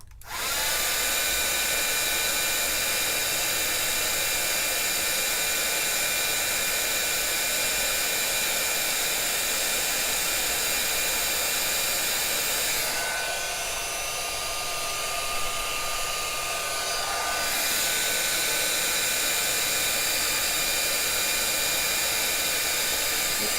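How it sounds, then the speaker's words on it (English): Heat gun blowing hot air over embossing powder, a loud steady whooshing roar held close for over twenty seconds, its tone shifting briefly partway through as the nozzle is moved or angled. "You want to hold it in one spot, let it do its work. You'll see it changing."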